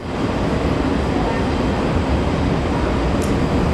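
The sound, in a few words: train arriving at station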